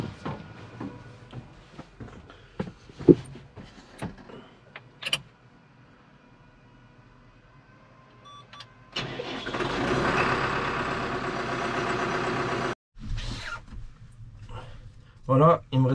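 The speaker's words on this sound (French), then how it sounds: "on va mettre le moteur en route, faire tourner tout ça un petit peu" A New Holland T6010 tractor engine cranks and catches, then runs at a steady, fairly loud rumble for a few seconds before cutting out, with scattered workshop clatter around it.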